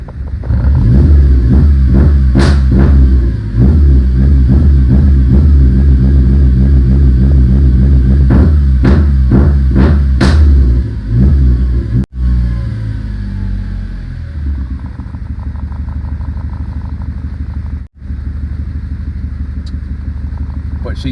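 A 1997 JDM Honda Accord wagon with a misfire and a suspected coolant-sensor fault revs up hard and close, its uneven engine note surging and dropping in repeated bursts before settling into a rough, lumpy idle.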